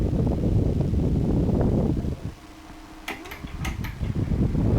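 A repaired electric fan runs on a high speed setting, giving a steady close rush of moving air that dips quieter midway, with a few light clicks, then builds back up.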